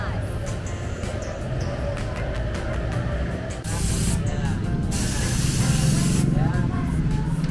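Water spray hissing at Sirkus Waterplay, an indoor family water park, comes in loud broadband bursts over a steady background of crowd noise and voices.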